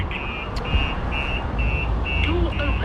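Starline S96 security alarm going off on a 2021 Audi RSQ8, a high beeping tone repeating at regular intervals over a muffled background rumble.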